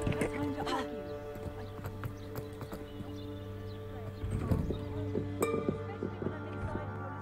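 Winged horses in the Hogwarts Legacy video game clop their hooves in a steady rhythm with an occasional whinny, set against sustained game music while someone talks over it.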